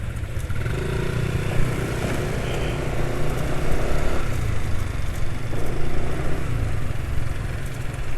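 A motorcycle engine idling after a Rock Oil change, a steady close rumbling drone that holds its speed throughout with only slight rises and dips in loudness.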